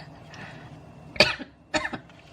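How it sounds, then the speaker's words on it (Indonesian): Two close, harsh coughs from a person burst out about half a second apart over a quiet room background. "Sorry ya, aku batuk nih."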